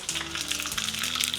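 Mustard and cumin seeds crackle and sizzle in hot tempering oil for a Telangana pachipulusu, making a dense, steady frying hiss close by, with a faint low hum underneath and no voices.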